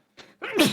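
A quick intake of breath then a sharp, close sneeze, short and loud.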